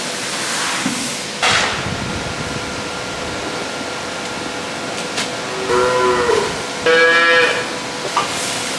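Cattle on a dairy farm lowing outdoors in fine weather, a few separate moos at middle distance, two of them longer and clearer toward the end, over a steady outdoor hiss with no talking.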